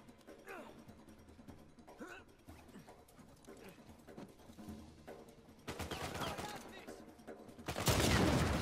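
AK rifle fire in the video game Uncharted 4, scattered shots and bursts under talking, then louder sustained gunfire and a heavy blast near the end.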